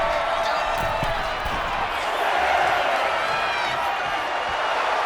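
A dense arena crowd in the WWE 2K26 wrestling game roars and cheers steadily throughout, a loud continuous wash of noise with some thumps underneath, and talk can be heard mixed in.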